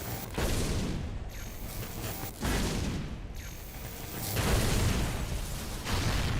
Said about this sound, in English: Yeah, that explosion definitely needs some work